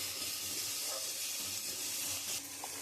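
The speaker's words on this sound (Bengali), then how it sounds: "পেঁয়াজটা একটু লাল লাল করে ভেজে নেব।" Onions frying in a pan for a Bengali curry of rohu fish roe with long beans, a steady bright sizzling hiss that fills the clip at close range with no talk over it.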